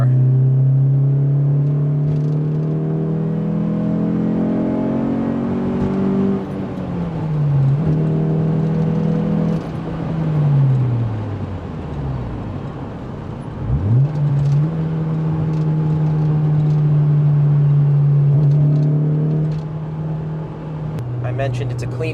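An S2000 sports car engine drones close by while driving, its pitch climbing through the revs and dropping sharply at gear changes several times, with a voice talking over the engine noise.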